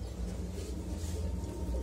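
Racing pigeons in a loft coo in low, rumbling throaty tones, a steady close murmur of calls with no talking over them.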